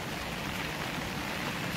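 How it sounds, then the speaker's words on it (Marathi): Rain falls steadily on outdoor surfaces as a faint, even patter and hiss, with no voices. "बघा किती मस्त पाऊस पडतोय फ्रेंड्स आमच्याकडं"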